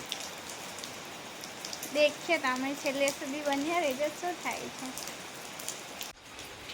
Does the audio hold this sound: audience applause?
no